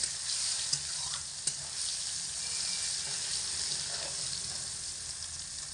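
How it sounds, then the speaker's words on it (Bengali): Tomatoes, green chillies and a dried red chilli fry over medium heat, a soft steady sizzle with a couple of sharp spatula taps early on, no talking. "টমেটো লঙ্কা খুব ভালো করে ভাজা হয়ে গেছে"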